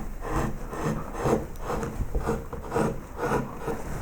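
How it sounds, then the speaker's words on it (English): A medium gouge cuts a shallow flute into the wooden tail of a carved koi carp, producing a series of rhythmic, rasping scrapes, close and fairly quiet, with no talking. "So we'll take a medium gouge, because we're not going to make these too deep, and we're going to start"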